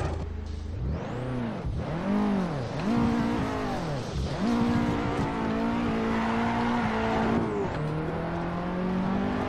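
A race car engine in Assetto Corsa revs hard and repeatedly, pitch climbing and dropping through quick gear changes, loud and close with a steady high whine, no talking.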